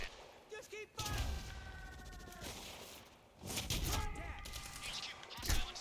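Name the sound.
gunfire in the video game Quantum Break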